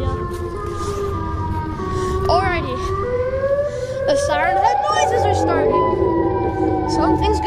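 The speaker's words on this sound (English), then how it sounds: "The Siren Head noises are starting." Eerie, wailing siren tones from the Siren Head monster in a video game rise and fall in sweeping glides, layered over a low droning background, loud and continuous with overlapping warbling calls.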